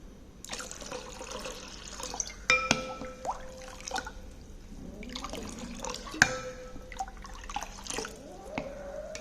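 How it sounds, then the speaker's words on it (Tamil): Water trickles and drips into a glass of gooseberry juice with clinks of glassware, a close, splashy pour that comes and goes over several seconds. "இதில் நம்ம இன்னும் கொஞ்சம் தண்ணி சேர்த்துக்கலாம்."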